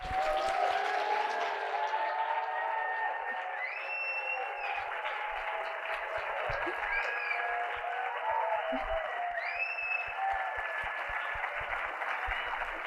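Steady, full applause from a large graduation ceremony audience honoring the Harvard College midyear graduating class, sustained without a break, with a few whoops and cheers rising above the clapping.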